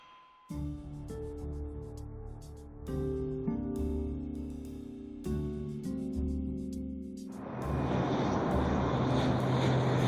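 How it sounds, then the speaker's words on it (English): Northwest Airlink Flight 5719 cruises over Minnesota, a steady airliner engine drone layered with sustained tones that shift in steps, swelling into a broad, louder roar near the end. "Northwest Airlink Flight 5719 cruises across the skies of Minnesota."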